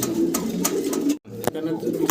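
Fancy pigeons at a farm coo softly in short, repeated throaty calls, close by, over a background of someone talking, with a brief dropout in the middle.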